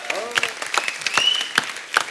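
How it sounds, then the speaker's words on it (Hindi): Studio audience applause at a Hindi comedy talk show, short scattered bursts of clapping with a voice speaking over it. "अरे सिर्फ ताली बजाते रहोगे क्या?"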